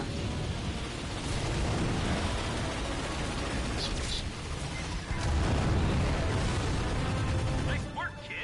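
The Starwatch ion cannon firing and blowing up in Ratchet & Clank, a long, dense roaring blast that rumbles on for several seconds, surges again midway, then trails off with voices beneath.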